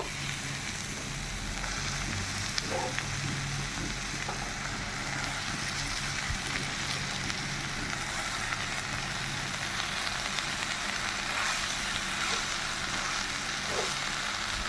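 Chopped water spinach dropped into frying masala in a pan, giving a soft, continuous sizzle and crackle that runs steadily throughout at low volume, with no talk over it.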